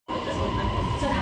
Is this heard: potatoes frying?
no